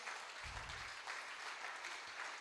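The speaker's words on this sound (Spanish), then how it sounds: "Denle un fuerte aplauso al Señor." A church congregation applauds during an evening service. The clapping is steady and fairly faint, a continuous patter of many hands with small swells.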